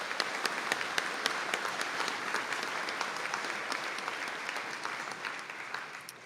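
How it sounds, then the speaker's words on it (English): Audience at a college conferring ceremony in Donegal giving a sustained round of applause, dense steady clapping from a large crowd heard alone throughout. "Could we give them all a round of applause"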